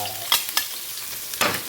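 Onions sautéing in a pan, a close steady sizzle punctuated by a few sharp spatula scrapes.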